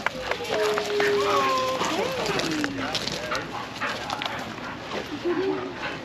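Several sled dogs yip, whine and bark as a team of five runs on gravel in a busy outdoor scene in Skagway, Alaska, with people talking and a steady rushing noise of movement throughout.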